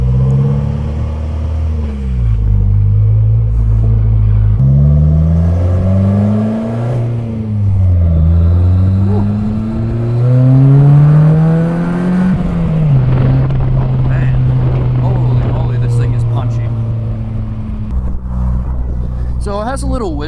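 A Polaris Slingshot three-wheeler's engine hums and rises and falls through the gears on an open road, loud and close, with a rider talking over it the whole time.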